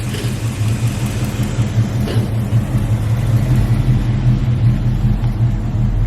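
A pickup's engine idles steadily with a deep, continuous rumble, close by and fairly loud, with no talking over it.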